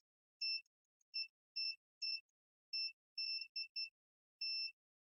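A multimeter with quality test leads gives crisp continuity beeps, about nine short clean tones at an uneven rhythm with silent gaps between, close up and clear.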